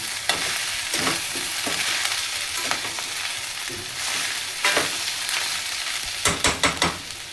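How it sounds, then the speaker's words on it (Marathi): Coconut rice frying in ghee in a pan, a constant close sizzle with repeated scraping and clinking stirring strokes, quickening into rapid clattering near the end, and no talking. "आता आपण ह्यामध्ये ना थोडं वरून तूप टाकूया। ह्याला थोडं परतून घेऊया।"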